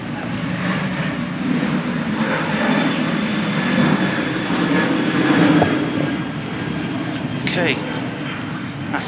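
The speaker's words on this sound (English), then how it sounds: "A big turbine." A large aircraft turbine engine runs outdoors at an aviation museum field, a steady roaring whine with some wind, while people talk nearby.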